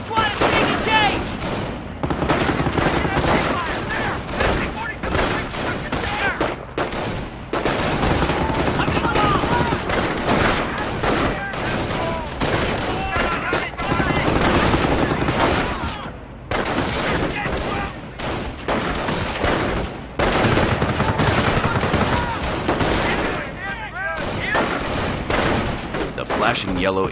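Rifle squad firing in Company of Heroes, with dense, continuous volleys of rifle and machine-gun fire and booming impacts running nearly nonstop and loud throughout, a few brief lulls between bursts.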